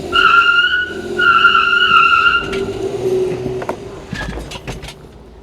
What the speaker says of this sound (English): We only did a one-wheel burnout